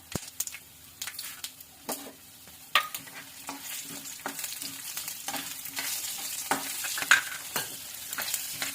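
Urad dal and chana dal fry in oil on a low flame for puliyogare, a gentle steady sizzle with repeated scraping stirs of a spoon against the pan, close up with no voices.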